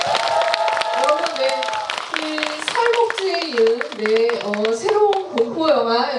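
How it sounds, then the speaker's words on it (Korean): Cinema audience at a pre-release screening and talk at CGV Wangsimni claps with scattered, crisp hand-claps, mixed with prominent voices and cheers that ride over the applause throughout. "큰 박수 부탁드리겠습니다."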